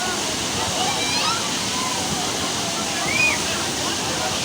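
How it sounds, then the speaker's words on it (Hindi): The Jaskol waterfall in Azad Kashmir pours steadily, a broad constant rushing roar of falling water heard from a short distance, with faint higher calls now and then above the wash. "इसमें पानी गिर रहा है,"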